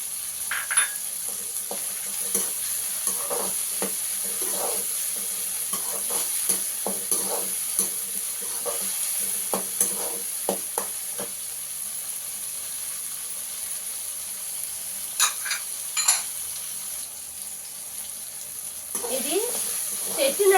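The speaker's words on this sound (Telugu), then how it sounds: "కొద్దిగా సేపు కాలిన తర్వాత కరివేపాకు వేసుకుంటున్నానండి" Curry leaves sizzle and crackle in hot oil in a pan for a Chettinad-style crab curry, with a steady hiss under scattered stirring and scraping clicks, and a voice talks over it at times.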